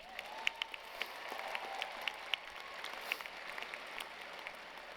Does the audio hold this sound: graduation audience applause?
yes